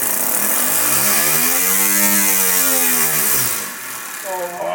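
A Lego air-powered pneumatic engine with a modified valve housing runs loud and close, a steady buzzing drone whose pitch climbs and then falls away before easing down near the end.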